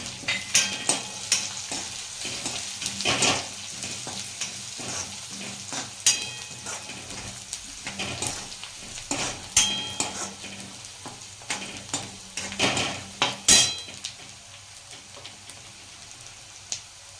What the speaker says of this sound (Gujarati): કટ કરેલા મરચાં નાખીશું, લીમડો નાખીશું